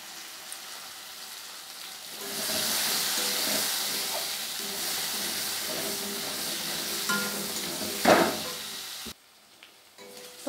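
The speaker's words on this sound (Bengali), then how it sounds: "নুন হলুদ দিয়ে আমি আলুটাকে ভেজে নিচ্ছি" Potatoes frying with salt and turmeric, a soft sizzle swelling after a quiet start and holding steady, with a sharp clatter near the end before it drops away.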